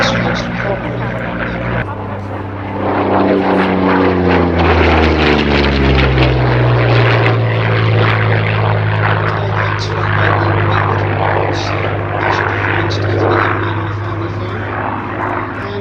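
A propeller aircraft flies a display at the Little Gransden Airshow, its loud engine drone sweeping past with a strong pitch-shifting pass, steady and continuous, under a faint announcer voice on the public address.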